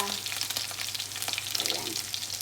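Onion and ginger fry in a pan of hot oil for catfish adobo, a steady crackling sizzle running throughout with light stirring scrapes and spitting pops.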